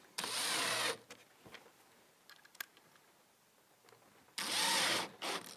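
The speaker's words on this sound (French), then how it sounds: "On va visser jusqu'au bout." A screw is driven into the wooden slat of a wood-and-metal compost bin with a power screwdriver, giving two loud, steady whirring bursts. Quieter handling clicks and taps fall between the bursts.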